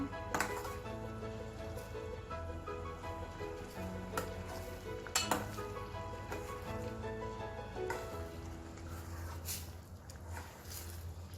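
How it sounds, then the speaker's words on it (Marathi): Drumstick amti curry in a pot, heard as a low steady bubbling sizzle with occasional clinks of a stirring utensil against the pot, faint and without voices. "चांगली उकळी आणू आपण आमटीला"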